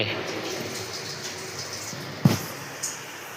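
Water drains off cooked rice in a home kitchen, a steady, soft pouring wash with a single sharp clunk partway through and a lighter knock near the end.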